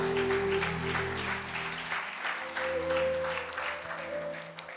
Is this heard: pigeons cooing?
no